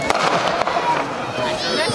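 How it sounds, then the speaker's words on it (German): A firework cake battery fires in the Düsseldorf pre-show of pyrotechnic cakes, sending a dense run of crackling shots and bangs close and loud, with a crowd murmuring underneath and voices talking over it. "Und dazu gibt es immer noch einen lauten Knall."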